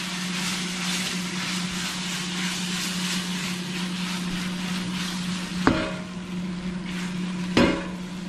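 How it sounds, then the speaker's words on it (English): Shrimp frying in a pan with honey barbecue sauce, a loud, even sizzle running throughout, broken by two sharp utensil clicks near the end, no talk. "we're going to go ahead and dump our honey barbecue right into our pan"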